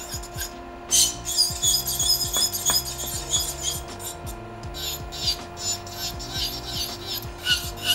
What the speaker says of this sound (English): I just like to do it with my electric file. It's faster for me.